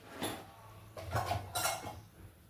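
A pan clinks onto a stove and oil goes in for cooking Kerala-style ennai kathirikai kuzhambu, heard as a few close metallic knocks and clatters with no talk.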